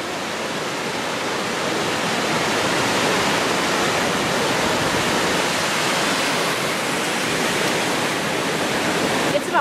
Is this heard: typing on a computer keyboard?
no